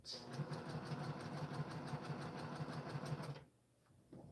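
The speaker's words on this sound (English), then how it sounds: "I'll keep sewing on these half square triangles." A sewing machine stitches half-square triangles for a quilt, a fast steady mechanical whir and rhythmic needle thumping up close for about three seconds before stopping abruptly into quiet.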